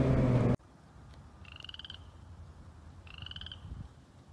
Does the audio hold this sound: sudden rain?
no